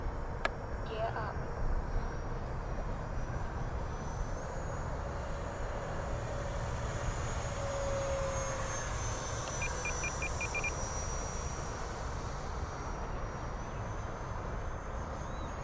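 Hobby King Flycat V2 RC electric ducted fan plane in flight, a steady broadband whooshing drone that holds through the whole stretch with slight swells, while people talk over it outdoors.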